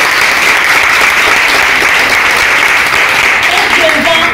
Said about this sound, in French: On va acclamer même notre président Félix Houphouët-Boigny.